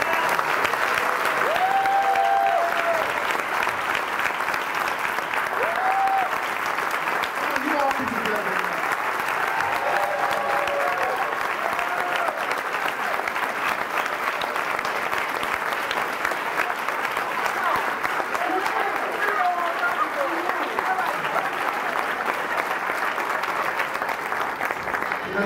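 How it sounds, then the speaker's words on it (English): Sustained, dense applause from a large audience at the Rustin-Lorde breakfast event, continuous and loud throughout, with faint voices and cheers mixed in. "let's give a huge round of applause to Darlene and Gray"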